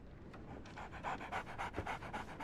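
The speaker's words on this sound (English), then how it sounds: "So, Barnes has a dog now. Who's a good boy?" A dog panting in Sherlock Holmes The Awakened, quick rhythmic breaths close by, fairly soft and alone.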